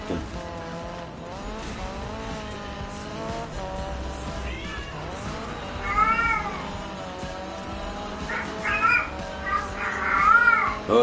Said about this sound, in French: Oh le chat, ta gueule.